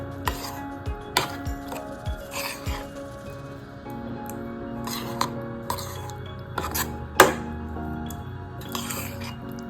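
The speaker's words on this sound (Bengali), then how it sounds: "এবার একটা স্টিলের টিফিন বক্সের মধ্যে এটা ঢেলে দিচ্ছি।" Prawn mixture with mustard oil is scraped and poured into a steel tiffin box, giving a close series of metallic clinks, scrapes and soft wet plops at irregular intervals.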